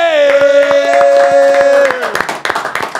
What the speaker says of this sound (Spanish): Quiero que recibamos con un fuerte aplauso a Axel.